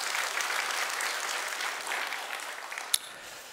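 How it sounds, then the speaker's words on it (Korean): Steady applause from a congregation filling a church at an early-morning service, with one sharp clap standing out near the end. "여러분 크게 박수 한번 해주셔요"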